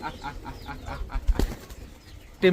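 High-flyer pigeons beat their wings in a quick, rhythmic flurry of soft flaps, close to the microphone, with a louder burst of flapping at the very end.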